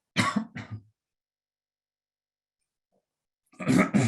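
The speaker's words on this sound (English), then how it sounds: "Just excuse me for a minute, I've just got a cough." A close, short throat clearing with a cough, then silence, then another harsh throat clearing after a pause.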